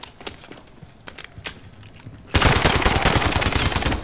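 Submachine gun fire in a first-person shooter video game: faint scattered shots at first, then a loud, sustained rapid burst of automatic fire lasting about two seconds, with no talk.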